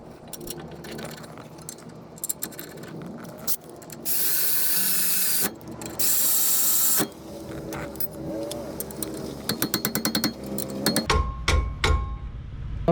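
A brake caliper mount goes onto the front of a 2007 Nissan Versa: close metallic clinks and jangles, a couple of sustained whirring bursts, then a fast run of ratchet clicks.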